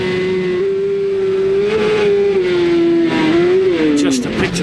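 A rally car on a gravel hillclimb course at Waimate, its engine holding a loud steady drone, then pitch dips and climbs as it shifts down through the gears. A commentator talks over it.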